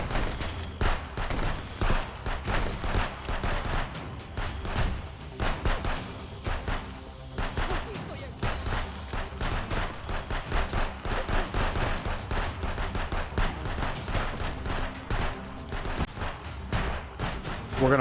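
Dense, continuous gunfire from a video game shootout in Contraband Police, loud and sustained throughout with overlapping rapid shots and bursts and no clear gaps.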